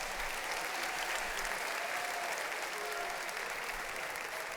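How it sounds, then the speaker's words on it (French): Cinema audience at the Grand Rex applauding in a dense, steady wash of clapping that carries on evenly throughout. "vous pouvez les applaudir"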